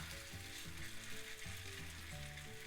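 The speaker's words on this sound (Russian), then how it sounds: "масло на сковороде нагрелось. И теперь по столовой ложке я выкладываю" Steady, close sizzling of zucchini pancake batter frying in hot oil in a pan, a continuous crackling hiss with no voices.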